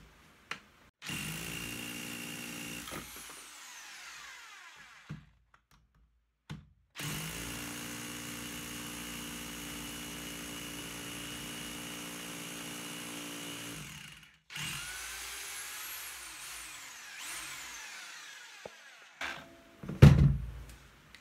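A Parkside 1500W 5J rotary hammer drill runs in hammer mode in three long bursts of loud, steady rattling drive, with brief gaps between them and a sharp knock near the end.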